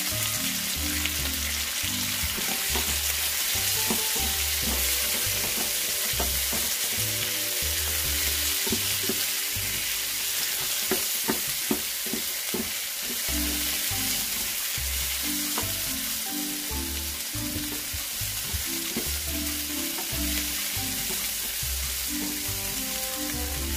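Onions sizzle and fry in a pan, a steady crackling hiss broken by scraping stirs and clinks, close and continuous without any voices.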